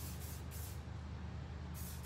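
Spray paint hisses from an aerosol can in short bursts, close and fairly faint, over a steady low background hum.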